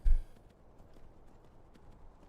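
Horse hooves clip-clopping in Skyrim, a single fairly close impact at the very start, then only a quiet low rumble of background ambience.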